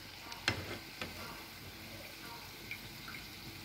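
Aloo chop fries in mustard oil with a quiet, steady sizzle. A few sharp clinks and stirring knocks break through, and the pan is close but the whole sound stays soft.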